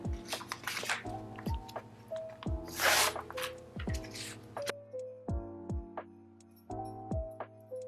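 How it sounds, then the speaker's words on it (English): Quilt papers are peeled off fabric squares in a run of short, close tearing and ripping strokes, each ending in a brief squeaky rasp, with a steady background hum and no speech. "Once your squares are all cut out, peel the papers off."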